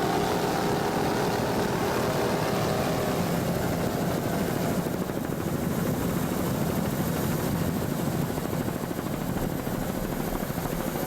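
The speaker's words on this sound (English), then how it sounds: "There you can hear the throttles going down" Offshore racing powerboat engines at the 2007 Great South Bay Battle on the Bay, a continuous loud, rough engine roar that holds steady throughout, easing slightly partway as throttles come down, with no talk.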